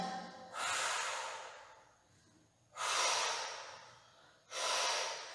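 Three slow, deliberate breaths heard up close during a Pilates exercise, each a long airy exhale separated by quieter pauses, with no talking.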